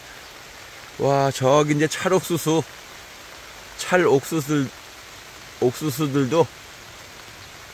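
Rain falls steadily on a farm with cornfields, a soft, even hiss that lasts throughout while someone speaks in three short bursts over it.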